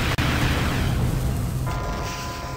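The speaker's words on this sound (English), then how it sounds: "Oh my god, now she's shooting missiles." Missiles fired by the Queen in American McGee's Alice boom in a loud, continuous roar of explosions, with a sharp pop near the start and the rumble thinning slightly toward the end.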